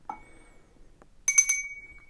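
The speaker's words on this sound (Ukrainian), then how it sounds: "Дзвоник порцеляновий. Гарно звучить" A small porcelain bell at a Lviv flea market rings in a quick burst of three or four bright, clear strikes after a near-silent stretch, then fades with a shimmering tail.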